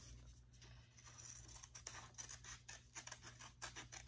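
Paper being cut with a pair of adult-size scissors, a puppet shape snipped out in a run of quick, close crisp snips and rustles against a low steady background hum.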